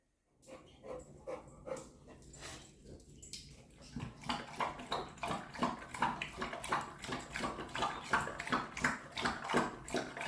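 A thirsty little dog laps water in a steady, rapid rhythm of wet slurping close by, the lapping growing louder and more continuous after a few hesitant starts.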